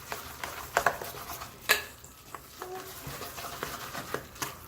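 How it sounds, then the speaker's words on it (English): Falafel ingredients being mixed by hand in a bowl, with close scattered clinks and scrapes of utensil on dish, soft stirring between, and a faint voice in the background. "then I'm gonna just mix it all together"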